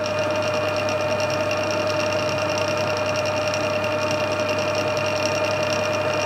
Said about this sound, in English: Start the lathe up.